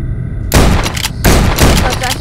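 Loud bursts of gunfire in the horror video game Asylum 77, two heavy volleys each holding for roughly half a second or more, close and dominant, with no talk over them.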